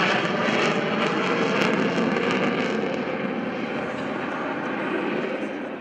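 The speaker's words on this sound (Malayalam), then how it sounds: "ഇടിമുഴക്കം പോലെ ശബ്ദമുണ്ടാക്കി വിമാനം വീണ്ടും പറന്നുയർന്നു" A jet aircraft at an air show in Thiruvananthapuram roars loudly overhead, a dense, sustained broadband thunder that stays strong throughout and fades slightly toward the end, with no voices.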